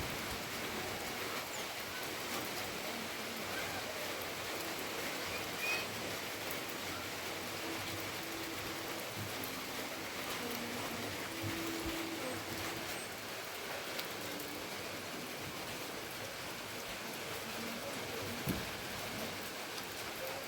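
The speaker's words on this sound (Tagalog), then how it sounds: "kay gaulan gid siya" Steady rain falls outdoors in a garden or yard, a continuous broadband hiss of drops on surfaces, fairly close and even throughout with no talk.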